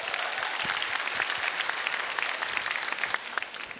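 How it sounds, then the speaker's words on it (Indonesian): Studio audience at a stand-up comedy battle show applauds, dense continuous clapping from a large crowd with sharp individual claps standing out, no voices over it. "tepuk tangan dulu dong"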